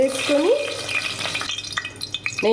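Oil and ghee frying in a pressure cooker, a close, loud crackling sizzle with stirring scrapes and scattered pops, and a brief voice-like tone at the start.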